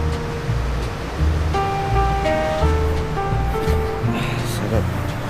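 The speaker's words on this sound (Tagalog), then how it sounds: "Sarap no tunog no agaslas ng ilog." Broad steady rush of river water flowing near a campsite below a dam in Zambales, continuous and fairly loud, with tonal hums and faint voices mixed in.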